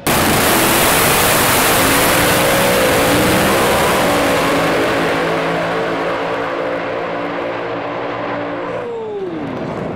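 A 1955 Chevy Bel Air race car roars hard under acceleration, its loud engine tone climbing steadily amid heavy wind and track noise before dropping away near the end.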